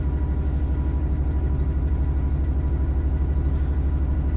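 A Class 66 diesel locomotive idles in a video game with a steady, throbbing low rumble, a regular mechanical pulse that holds constant throughout with no voices.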